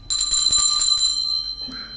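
A hand bell is rung at a piano studio recital, giving a bright, sustained metallic ring with several struck pulses that slowly decay over about a second and a half, close and fairly loud with no talking.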